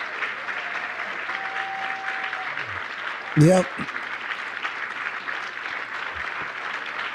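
Applause from an audience runs steadily underneath throughout, a continuous, even patter of many hands, while someone speaks briefly over it.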